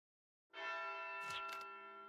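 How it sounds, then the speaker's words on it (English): Funeral chimes ring in the video game Wild Arms Alter Code: F: a single sustained, bell-like tone enters after a half-second of silence and hangs on evenly, with a couple of short soft noise bursts over it. "Those are funeral chimes."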